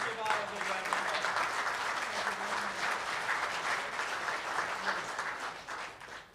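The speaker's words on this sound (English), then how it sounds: "Let's give Otto a big round of applause." An audience at a veterans hall of fame ceremony applauds with steady, full clapping that lasts several seconds and tapers at the end, with faint voices mixed in.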